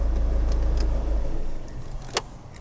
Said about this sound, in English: it also says I've got to cycle the ignition key as well